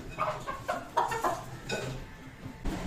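Lohmann Black hens cluck in a series of short, fairly close calls as they are shifted into a master cage, with faint background noise and no talk.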